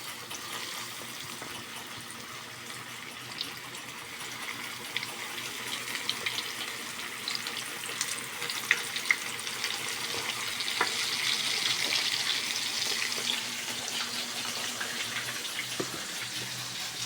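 Ginger, garlic and onion sizzle in hot oil in a pan, a steady close crackle and hiss that swells slightly toward the middle and continues without talk.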